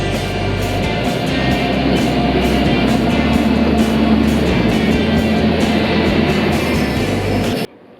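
Steady low rumble of a train to Gokarna, India, in motion, loud and continuous, with a faint rhythmic rattle throughout before it cuts off abruptly at the end.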